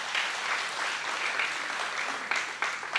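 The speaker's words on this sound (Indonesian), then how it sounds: "tepuk tangan yang keras buat Tuhan" A church congregation clapping loudly and steadily during a sermon, a dense wash of many hands that fills the room without pause and carries on to the end.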